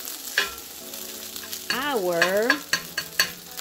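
Shrimp being stirred into a frying pan for omurice: a continuous sizzle with scraping utensil strokes, a rising-and-falling voiced tone in the middle and a few spoken words.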